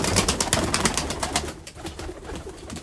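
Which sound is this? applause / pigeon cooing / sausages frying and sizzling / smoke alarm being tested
pigeon cooing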